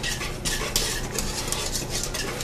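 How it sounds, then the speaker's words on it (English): A whisk works quickly through homemade liquid laundry detergent mixed with laundry crystals in a bowl, making rhythmic, close scraping and sloshing strokes with bright clinks. "my last 3 tablespoons of laundry crystals. And give that a good whisking."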